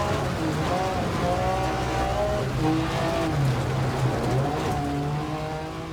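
Rally cars in a video game roar through gravel and snow stages, a steady engine drone with shifting revs and tyre noise, moderately loud and continuous.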